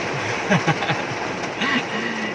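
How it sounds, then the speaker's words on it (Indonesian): Dense, steady drumming of heavy rain on the roof of a Daihatsu Karimun car with poor sound insulation, with a voice murmuring briefly underneath. "ini sekarang kan hujan deras itu, suaranya kayak gini guys"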